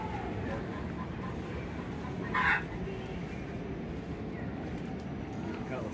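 Chickens cluck steadily and faintly in the background at a distance, with no talk.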